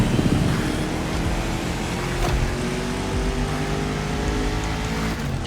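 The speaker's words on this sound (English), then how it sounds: "driving my #1 car, the star of my collection, the 1969 Mustang Boss 429" A 1969 Mustang Boss 429 muscle car driven in the racing game The Crew Motorfest, its engine a loud, continuous droning roar with steady harmonic tones and no breaks or talking.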